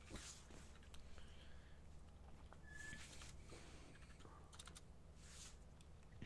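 Faint, irregular clicks of typing on a computer keyboard patter along quietly under a soft background hum.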